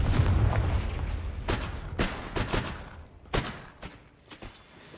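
Confringo fire spell from Hogwarts Legacy, with a loud booming burst at first, then a series of sharp explosive cracks and thuds that fade in strength.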